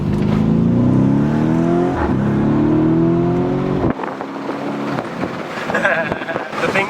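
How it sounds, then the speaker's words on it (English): A Novitec-tuned Lamborghini Urus V8 SUV accelerates hard, its loud engine note climbing steadily in pitch before dropping at a gear change and building again, with wind noise throughout. "We're gonna go for my first pull in the Urus."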